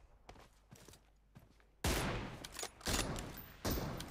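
Gunfire in the mobile shooter PUBG Mobile: a few faint clicks and shots at first, then loud, close bursts of rapid fire in several clusters, with no talk.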